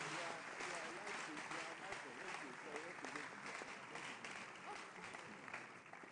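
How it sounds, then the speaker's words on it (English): Hall audience applauding at a youth awards event as a scheme director walks to the stage; continuous clapping with voices mixed in, steady throughout and faint overall. "Please give him a round of applause as he walks up here."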